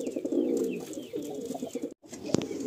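Madrasi and Giribaj pigeons coo softly in a loft, several low murmuring calls overlapping with a brief silence near the end, close and moderately quiet.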